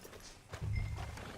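A horse snorts and whinnies close by in the video game Red Dead Redemption 2, with a low rumbling blow and faint hoof shuffles around it.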